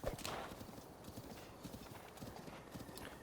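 Horse hooves clip-clopping at a steady trot in the video game The Legend of Zelda: Breath of the Wild, with a brief whinny near the start, fairly faint and continuous.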